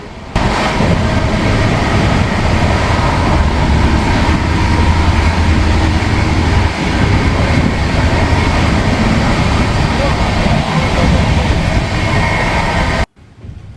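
Inside an empty passenger train on an Indian rail route to NJP/Siliguri, a loud, steady rumble and roar of the moving carriage continuing without a break until it cuts off abruptly at the end.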